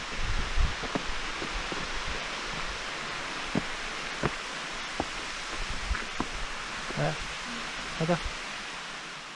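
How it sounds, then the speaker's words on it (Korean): Waterfall rushing at a mountain lake resort during a winter sled festival, a steady broadband wash of water filling the scene, with voices talking over it and scattered footsteps. "폭포 장난 아니야"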